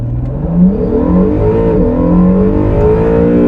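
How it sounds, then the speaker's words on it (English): A Honda NSX, compared against a Nissan GT-R NISMO, launches at full throttle in launch mode. The engine gives a loud, close, continuous roar that climbs in pitch through the gears, with no talk over it. "Floor the throttle, launch mode, here we go."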